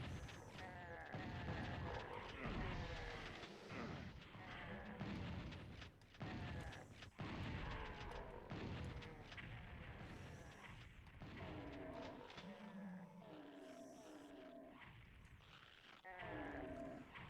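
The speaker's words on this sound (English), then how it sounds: "If only I knew where those gunshots were coming from." Ultimate Doom on PlayStation: a dense, continuous wash of monster growls, roars and bleating cries from creatures infighting, with scattered booming thuds of distant gunfire, fairly faint but steady throughout, with no speech.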